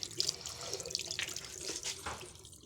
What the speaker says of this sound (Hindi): तो मेरे हाथों में अभी भी मेहंदी लगी है, तो मैंने सोचा पहले इसको धो लेती हूँ।